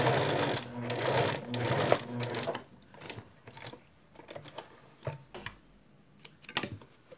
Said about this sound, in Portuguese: Aí você costura.